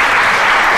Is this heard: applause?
yes